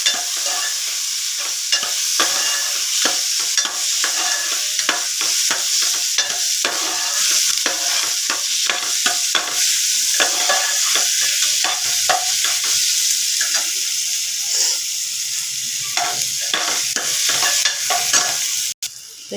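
Onion and tomato frying in a pan for a potato curry, stirred throughout: steady close sizzle under dense, irregular scraping strokes of a spoon against the pan, continuing without speech for the full stretch.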